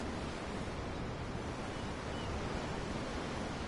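Steady ocean waves and surf roar in Tales of Arise, a continuous broadband wash with a windy hiss, heard alone without any voices.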